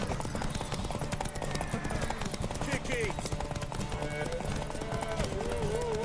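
A horse gallops with rapid rhythmic clip-clop hoofbeats during a race in The Witcher 3: Wild Hunt, mixed with game music and effects while someone talks over it.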